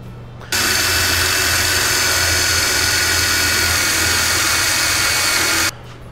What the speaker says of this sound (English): I'm going to go drill these spot welds out, get these mounts off here